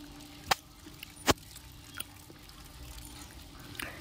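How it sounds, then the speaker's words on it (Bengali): Water splashes and drips in short bursts as pieces of fish are rinsed by hand in a kitchen, a few distinct sloshes against a quiet background. "তো চলো মাছগুলো আগে ধুয়ে নিই।"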